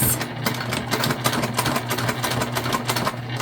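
Close, loud and continuous, a sewing machine drives steadily through several thick layers of a bag, its motor hum and rapid needle rhythm carrying on without a break.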